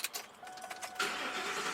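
A 1999-2004 Ford Mustang starts up: a brief clicking crank, then the engine catches about a second in and settles into a steady, close idle.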